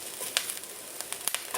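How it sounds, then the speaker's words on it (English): Mexican lasagna filling sautés quietly in a pan, a faint soft sizzle punctuated by a few light crackles and pops, with no one talking. "Just make sure it's sauteed up nicely."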